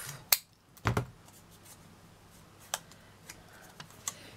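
Scissors snip the corners off small cardstock pieces for a papercraft caddy, with one sharp cut followed by a heavier crunching snip, then a few lighter ticks and taps of paper handling nearby in a quiet room.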